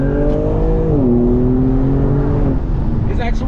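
A 2021 BMW M4 Competition roars loudly and steadily, its engine tone stepping down in pitch about a second in and again near the end, with a voice heard faintly beneath.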